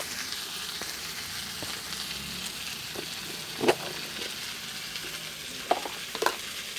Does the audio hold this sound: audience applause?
no